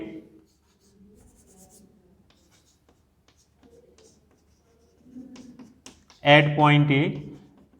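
Chalk or marker taps and scratches briefly on a board in a lecture room about mechanics, faint and intermittent, followed by a teacher speaking.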